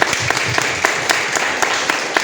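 Scattered hand claps from a small group at a church service, a few sharp distinct claps over a steady wash of sound, moderately loud.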